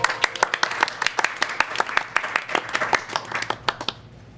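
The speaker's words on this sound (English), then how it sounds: "We're still clapping" An audience at a charity livestream claps in a brisk, steady run of sharp hand claps, close and fairly loud, which thins out and stops near the end.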